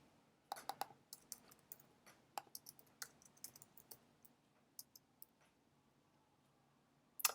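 Email being typed on a computer keyboard, a run of soft, close key clicks in uneven bursts with short pauses, quiet and alone without talking.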